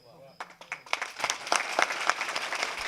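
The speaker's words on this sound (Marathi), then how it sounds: "दादा, टाळ्या का लेट वाजल्या माहिती का?" An audience at a kirtan program for the Shiv Jayanti celebration breaks into applause after a quiet start, clapping building into a loud, scattered burst that continues to the end.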